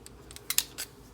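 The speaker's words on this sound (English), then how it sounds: "I used my Tim Holtz scissors by Tonic Studios" Tim Holtz scissors by Tonic Studios snip through paper in a few quick, crisp cuts, the two loudest close together near the middle, with no talking.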